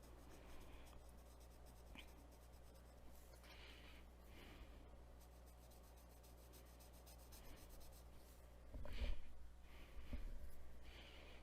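Alcohol marker tip drags across marker paper in soft, steady scratchy strokes during coloring, close and quiet, with a few slightly louder rubbing passes near the end.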